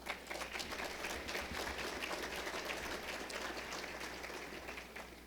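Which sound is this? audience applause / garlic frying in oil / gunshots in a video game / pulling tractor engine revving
audience applause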